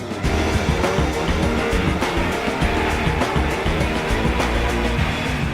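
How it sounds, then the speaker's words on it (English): A drift car at the Red Bull Drifting World Championships roars continuously at high revs, its tires squealing and skidding under a loud, sustained engine note. "Drifting is basically pushing the car beyond its limits."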